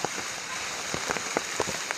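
Heavy rain pours in a steady hiss, with distinct drops spattering close by on a surface in an irregular patter.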